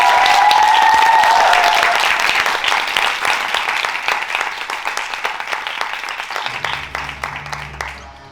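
A theatre audience at a year-end drama school show in Paris gives loud, sustained applause that gradually thins and tails off, with some crowd murmur mixed in and a low rumble near the end.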